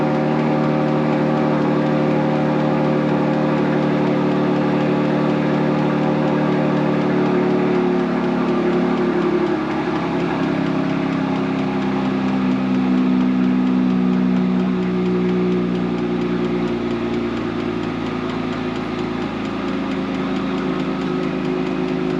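A Jeep engine idles steadily nearby, a constant low rumble with a slight shift in tone midway, no voices.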